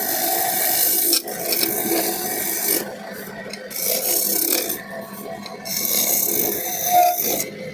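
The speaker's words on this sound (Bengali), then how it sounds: "দেখেন কত সুন্দর ফিনিশিং করে হাত দেওয়া করছে।" A wooden item hand-finished with a rasp or file, giving continuous loud scraping strokes with brief pauses and changes in pitch as the tool drags over the wood.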